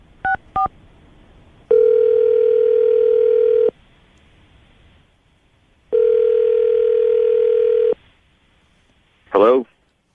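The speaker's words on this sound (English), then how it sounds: "I'm going to dial the phone number right now" A pair of quick keypad beeps, then two long steady tones of a telephone ringback sounding loud and close with a pause between them, ending in a short burst as the call is picked up.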